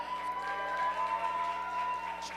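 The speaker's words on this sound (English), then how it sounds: "You guys, round of applause for both of them." A crowd at a live performance event applauds and cheers steadily throughout, a dense wash of clapping with a faint tone humming underneath.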